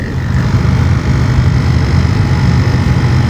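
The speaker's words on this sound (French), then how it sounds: "ça c'est le bruit du compresseur" A mini pool heat pump's compressor runs with a loud, close, continuous low rumbling drone and a steady hum, no talking over it.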